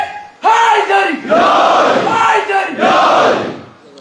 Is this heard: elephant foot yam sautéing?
no